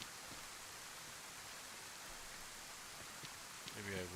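Steady rain hisses across a beach in the DayZ video game, a dense even wash that holds at one level throughout, with a faint rustle near the end.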